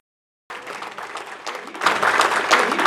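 Polite audience applause at a summit closing plenary begins abruptly after a half-second of silence, building into fuller, louder clapping in the final second.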